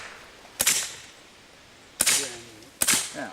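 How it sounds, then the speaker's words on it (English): A machine gun fires three single shots on semi-automatic at an outdoor shoot, each a sharp loud crack with a short echoing tail, spaced about a second apart. "Go ahead and shoot a couple rounds."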